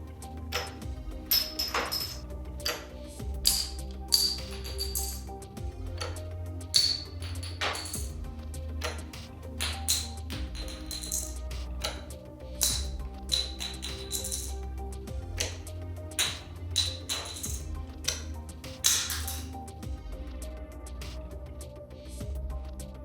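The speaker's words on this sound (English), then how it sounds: "let's test this with a challenge of knocking them from a floor above on the ground" Dominoes dropped from a floor above hit a hard floor in repeated sharp clattering bursts, each scattering into clicks and clinks and spaced a few seconds apart, fairly close and loud with no talk.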